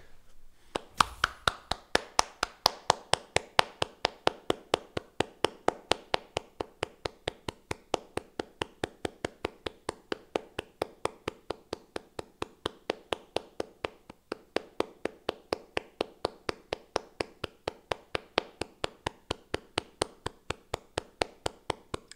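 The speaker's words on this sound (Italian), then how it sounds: "Li sto facendo a me stesso questi applausi" One person claps steadily and evenly for over twenty seconds, each sharp slap sounding close and distinct, with no voices.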